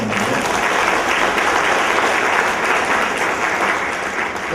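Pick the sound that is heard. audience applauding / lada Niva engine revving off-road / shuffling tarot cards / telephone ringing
audience applauding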